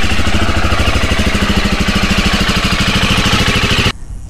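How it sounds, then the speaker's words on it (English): A Husqvarna motorcycle engine runs steadily at a fast idle to heat up the exhaust, a loud, close, rapid pulsing drone that cuts off abruptly near the end. "And we're gonna heat it up now. So we're gonna run the bike just as the instruction says."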